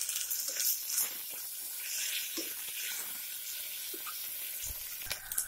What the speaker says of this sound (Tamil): இஞ்சி பூண்டு நல்லா பொரியட்டும்